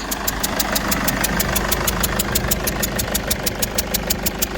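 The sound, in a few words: Mercedes E220 W211 engine idling with leaking injector seal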